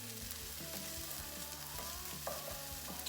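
Pre-cooked lentils warm in a pan with a quiet, steady sizzle, broken by a few soft stirring scrapes.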